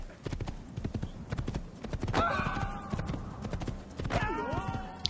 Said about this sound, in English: let's get back on our constantly color-changing horse and head on out of the zone